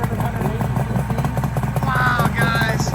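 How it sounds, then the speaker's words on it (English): Yamaha SDR motorcycle fitted with a Paul Gas Stage 3 engine runs steadily with a rough, throbbing motor note, rising in a couple of revving surges near the end, with voices around it. "So he did crank up this Yamaha SDR."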